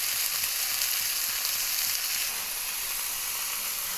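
Ginger-garlic paste and goat liver sauté in a pan, giving a steady, even hiss of frying at close range with faint stirring, no talk.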